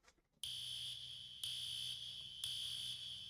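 A fire alarm blares in three loud, shrill electronic pulses, each about a second long, starting after a brief quiet moment.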